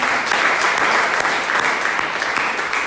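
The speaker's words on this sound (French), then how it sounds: "Et nous acclamons le Seigneur pour sa bonne parole." Church congregation applauding during an evening worship service, steady dense clapping close and loud throughout with no break.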